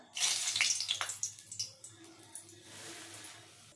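Dried red chillies drop into hot white cooking oil in a pan, setting off a sudden crackling sizzle at close range that spits in bursts, then settles into a softer, steady fizz.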